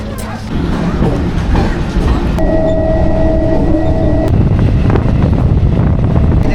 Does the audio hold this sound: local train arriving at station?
yes